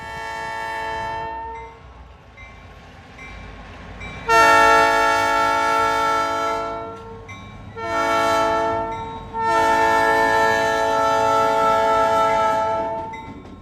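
An Idaho Northern & Pacific freight train sounds its loud multi-tone horn in several long blasts, with a steady rumble of rolling railcars underneath.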